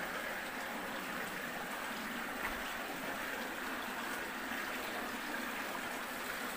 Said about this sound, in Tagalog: Ang lakas talaga ng current na tubig